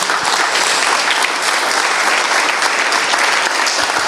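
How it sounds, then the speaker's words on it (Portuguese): A church congregation applauds during a worship service, steady and dense clapping filling the room from start to finish at an even loudness. "Vamos aplaudir o Senhor?"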